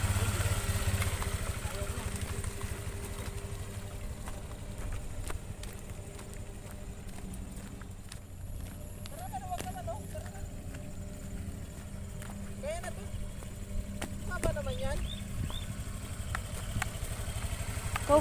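A motorcycle engine idles and rumbles steadily close by, with voices talking faintly in the background.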